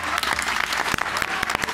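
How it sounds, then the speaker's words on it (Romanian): Dense audience applause greeting newlyweds at a televised wedding on a Romanian reality show, many hands clapping close and loud in a continuous burst with sharp individual claps standing out, while a voice talks over it. "puteți aplauda"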